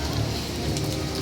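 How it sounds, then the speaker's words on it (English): Heavy rain pours down outside a doorway at a Universal theme park during a thunderstorm, a dense, continuous hiss of drops striking the pavement and nearby surfaces, loud and even throughout. "the rain is coming down right now"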